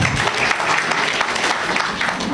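An audience at a Guinean community installation ceremony in Port-Gentil bursts into sustained applause, a loud, dense crackle of many hands that fills the room without a break and has no speech over it.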